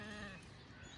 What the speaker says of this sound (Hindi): एक ये बकरी है